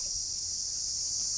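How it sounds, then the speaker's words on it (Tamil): Unbroken high buzzing of a calling cicada fills the air in a natural setting, steady and fairly loud, heard alone with no talking. "இந்த சில்லுவண்டு அப்படிங்கிறது ரொம்ப நேரமாக ஒலி எழுப்பிக்கிட்டே"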